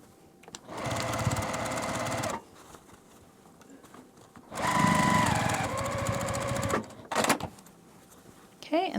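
A sewing machine stitches a multi-zipper pouch in two sustained, steady whirring runs of a couple of seconds each, close and loud, separated by pauses with handling clicks.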